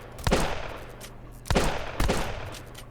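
Three sharp gunshots fired in The High Tower, spaced about half a second to a second apart, each a punchy crack with a short decaying tail.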